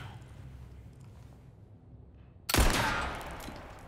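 A single loud gunshot in Resident Evil 4 (2023) cracks out after a quiet stretch and rings off in a decaying tail.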